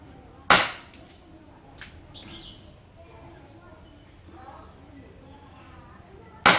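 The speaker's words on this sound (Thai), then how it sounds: "ทดสอบเจ้าตัวลูกโม่ Elite Force H8R กันนะครับ มาดูกันระบบ CO2 นะ" An Elite Force H8R CO2 revolver BB gun fires one sharp, loud crack, followed by a quieter stretch with faint bird chirps and low sounds, then a second sharp shot right at the end.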